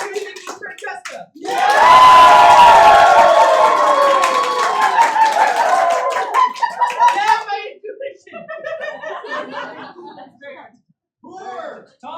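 Theatre audience at an improvised whodunnit show bursting into loud clapping and cheering for a vote, sustained for several seconds before fading into scattered claps and talk from a performer.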